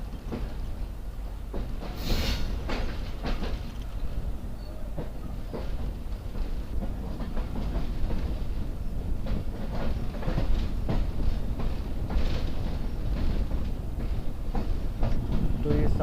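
The Mohen Jo Daro Express runs along rails through the Sindh countryside with a constant, loud rumble and a rhythmic clickety-clack of wheels, heard from inside the carriage, with faint voices in the background.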